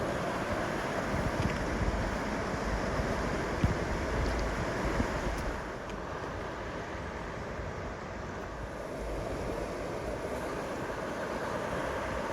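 Creek water rushing steadily beside a hiking trail at McConnells Mill, a broad continuous wash with some wind buffeting the microphone, heard alone with no talking.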